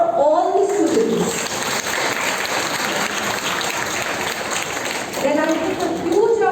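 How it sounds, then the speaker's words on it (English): Applause for students at a school event marking Shakespeare's birth anniversary, a dense sustained wash of clapping from a crowd, with a voice speaking over it at the start and again near the end. "a huge round of applause for all the students"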